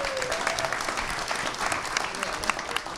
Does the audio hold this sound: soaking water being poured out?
no